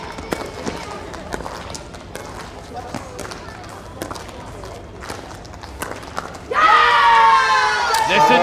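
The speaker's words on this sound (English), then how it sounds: "Listen to the roar." Crowd at a semifinal pickleball match in New Delhi erupts into a loud roar of cheering near the end, after a stretch of ball pops and shuffling footsteps.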